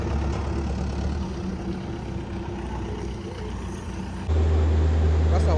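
A genset truck idles and rumbles close by as it is moved into position, a steady low diesel drone that grows louder and heavier near the end.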